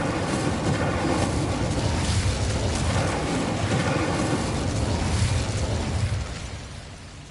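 Incendio fire spell cast in Hogwarts Legacy, a loud roaring burst of flame that sustains for several seconds before fading, with no talking.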